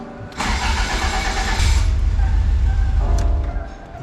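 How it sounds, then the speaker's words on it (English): A Toyota AE86 engine cranks with a steady grinding churn and briefly catches, running loudly for a few seconds before cutting off. "we did hear it turn over a little bit"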